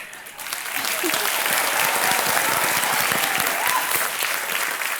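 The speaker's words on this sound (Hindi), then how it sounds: "अभी लोग सब ताली वाली बजा देते हैं" Sustained applause from a studio audience on a televised Hindi quiz show set, a dense steady wash of clapping holding loud and even for several seconds with no talk over it.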